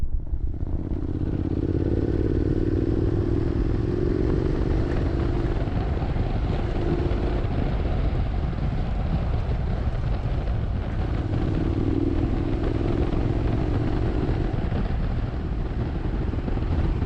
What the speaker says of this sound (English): we make Norman ride in front with his BMW